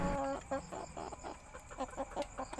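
Several chickens cluck close by at night during feeding, in short irregular bursts, soft murmuring calls overlapping with faint background noise.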